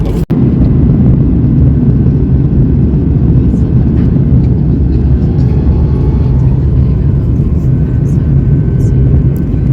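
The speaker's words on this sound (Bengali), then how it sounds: "We're going to land now." Airplane cabin during a descent to land in Taiwan, a loud, steady engine roar and rumble filling the whole stretch, close and unbroken, with no voices rising above it.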